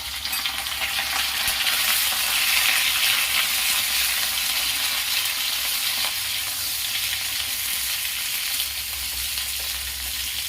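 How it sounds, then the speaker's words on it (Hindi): Pointed gourd and potato pieces sizzle in hot oil in a pan, a steady, dense frying hiss that holds loud and unbroken throughout with no voices. "तो आलू और परवल को मैं इसमें भून लूंगी"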